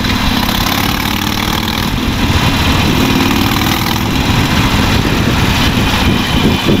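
A Harley-Davidson Iron 883 cruiser motorcycle engine roars loudly and steadily throughout, a deep rumbling exhaust in traffic with no voices.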